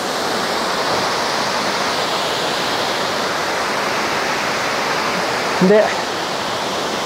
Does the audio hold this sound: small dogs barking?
no